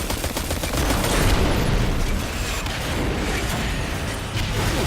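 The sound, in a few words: shotgun fire in the video game Destiny 2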